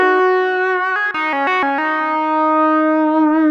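A Sequential OB-6 synthesizer runs through effects, holding a bright sustained tone that steps through a quick run of changing notes before settling into a long held note, loud and with no voice.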